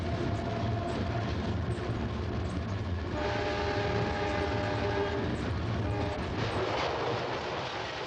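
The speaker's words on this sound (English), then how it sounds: "an eastbound coach train of the orange 1929 steel cars rounding Hanson's or Ford City curve on the downgrade to the Hegewisch stop" An eastbound two-car South Shore interurban coach train of orange 1929 steel cars rounds a curve on a downgrade near Hegewisch, with a steady rumble of wheels and rails and a sustained horn sounding from mid-distance.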